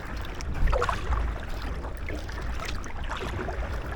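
An Aqua Marina Halve Ultralight inflatable kayak is paddled at a steady pace with the wind behind, giving soft repeated splashes and water swishes over a light breeze, fairly faint and close.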